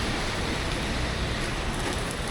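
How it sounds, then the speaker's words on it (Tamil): Steady, dense rain falls outside Hotel Malabar, a roadside hotel near Vadakkanchery used as a dinner stop, making a loud, even hiss with no pauses throughout. "இங்கே தான் மழை பெய்யுது"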